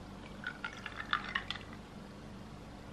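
Liquid pours into a container with a soft, close trickle and scattered drips and splashes over about a second and a half, then fades to a quiet background.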